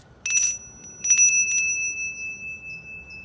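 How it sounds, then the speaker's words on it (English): Small handheld bell rung in quick strokes, a bright metallic ding followed by two more rapid rings, each tone sustaining and slowly fading into quiet. "I had to ring my bell"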